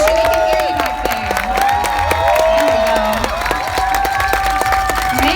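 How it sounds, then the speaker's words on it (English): A crowd at a Las Vegas costume showcase on the Strip claps and cheers, with scattered whoops and shouting over steady applause, lively and close throughout. "Let's give them one last big round of applause. Make sure we can hear you back there."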